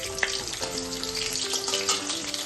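Potatoes frying in hot oil in a pan as khichuri cooking begins, giving a steady close sizzle and crackle with no talk.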